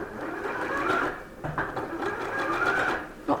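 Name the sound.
sewing machine zigzag stitching a cardigan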